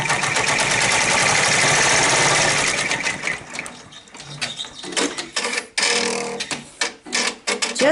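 A sewing machine stitches down fused fabric applique, first in a steady whirring run, then in short stop-start bursts with clicks between them.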